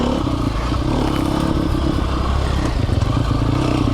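Engine of a 2020 Sherco 300 SEF Factory four-stroke dirt bike held in gear while riding, a loud, steady rumbling drone with clattering and scraping throughout, close and continuous with no talk.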